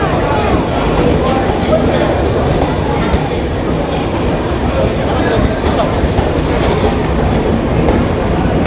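Benapole Express train in Bangladesh, heard at the station as a loud, steady rumble of rail cars with clattering wheels and busy platform noise under occasional voices.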